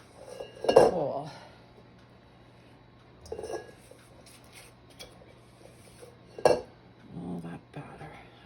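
A spatula scraping cake batter for orange cranberry bread out of a mixing bowl, a few separate clinks and scrapes against the bowl spread out over quiet pauses, with soft kitchen noise and a little talking.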